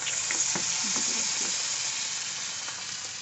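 Spoonfuls of drumstick-flower (sojne phool) pakora batter with green chilli dropped into hot oil, giving a steady broadband sizzle with a few small pops and splutters from the fresh batter, close and alone.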